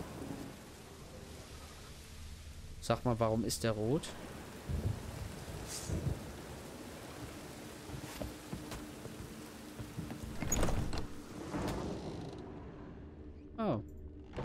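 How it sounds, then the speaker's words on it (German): Rain falls steadily in The Witcher 3 game world, with low thunder rumbles rolling underneath, while a player talks intermittently over the storm and in-game voices and effects cut in. "Schon wieder Regen."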